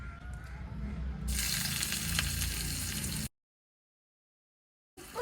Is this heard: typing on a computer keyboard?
no